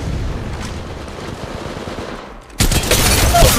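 Automatic gunfire in the mobile battle royale game Apex Mobile, energy ammo weapons: steady rattling bursts through the first half, then a sharp, louder volley of shots kicking in near the end.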